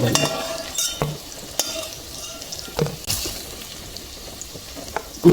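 Soybean pakoras frying in hot oil, a soft continuous sizzle broken by sharp scrapes and clinks of a ladle stirring and lifting them from the pan, close and without talk.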